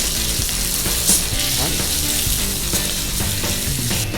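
Pork belly sizzles loudly in a hot pan alongside browning kimchi, a constant close crackle and spit with occasional sharper pops and stirring scrapes.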